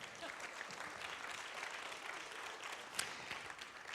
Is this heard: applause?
yes